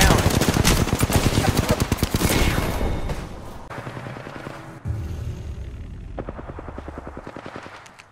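Loud, rapid automatic gunfire from a video game, dense bursts of shots early, then a short gap and further quicker volleys, fired while the player character is downed.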